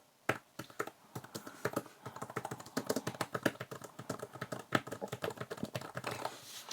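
Typing on a Nillkin KClip 2 Bluetooth keyboard case for an iPad Pro: a steady, close run of clicky keystrokes with uneven rhythm, fairly loud and alone without talk.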